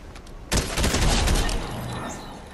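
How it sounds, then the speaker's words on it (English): A sudden volley of rapid gunshots in the video game Fortnite erupts and continues as a dense, crackling burst of gunfire before tapering off. "I hear gunshots."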